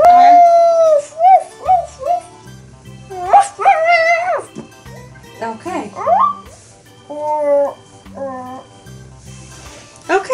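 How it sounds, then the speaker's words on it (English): A dog yips and howls in rising, wavering cries, several bursts over about ten seconds, close and fairly loud, with a low hum underneath. "A doggy. Australian Shepherd."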